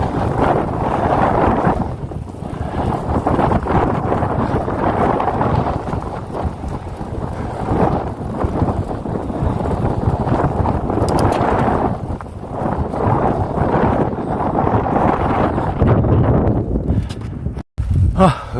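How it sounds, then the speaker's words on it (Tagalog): Strong wind buffets the microphone continuously on a mountainside outing after winter, a loud roaring rumble with a person speaking breathlessly beneath it. "Mahangin pa."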